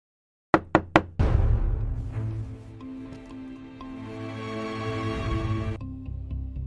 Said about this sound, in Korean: 발소리가 문 앞에서 멈추고 정확히 3번의 노크 소리가 들렸습니다